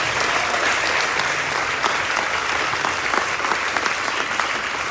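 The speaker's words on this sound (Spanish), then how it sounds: "fuerte las palmas para ellos." A church congregation claps in sustained, dense applause, loud and steady throughout, with no voices standing out.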